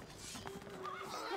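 A horse whinnies amid a busy game soundscape, with hoofbeats and background noise underneath, in the video game Stronghold: Crusader.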